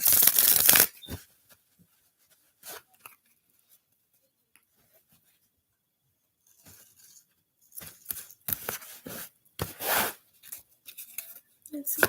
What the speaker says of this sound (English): Okay, one more shuffle and we'll see.